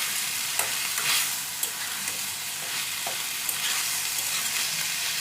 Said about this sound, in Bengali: পেঁয়াজটা দিয়ে দিয়েছি, দিয়ে একটু ভেজে নেবো